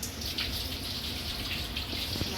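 Water runs from a kitchen tap during a rinse while ground beef patties are being made, a steady, even rush of water with no talking.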